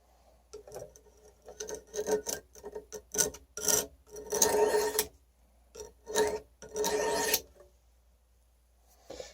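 A knife being sharpened, short rasping strokes in bursts of varying length with quiet gaps between them, close and moderately loud, with no talk.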